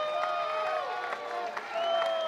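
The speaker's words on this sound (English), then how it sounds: "Crowd sensing the moment, rises to its feet." A softball stadium crowd during an NCAA game between Auburn and Florida, with a steady roar of cheering and applause that swells near the end, under a commentator's voice.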